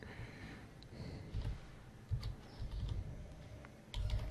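Someone taps a PIN on a computer keyboard while unlocking a USB pendrive, producing soft, close key clicks in small irregular clusters over quiet room noise.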